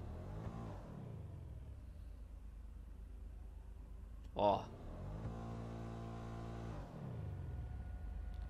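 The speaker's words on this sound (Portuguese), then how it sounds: "Carros têm som realista de ventilador de cooler." A car's cooling fan runs in GTA 5, a steady whirring drone with harmonic tones that swell and fade, interrupted midway by a short spoken interjection.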